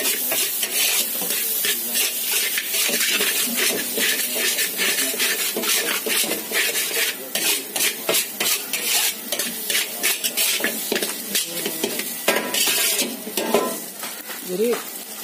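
Goat meat sizzles loudly in a hot pan while a utensil repeatedly scrapes and stirs, producing rhythmic metallic clinks over the steady frying hiss.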